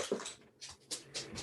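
A dog whines in a quiet indoor room. Several short, high whimpers come in separate bursts with pauses between them.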